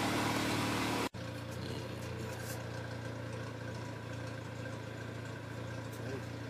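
A steady engine with a noisy lifter idles with a continuous low rumble while making steam, interrupted briefly by a short dropout near the start, then running evenly.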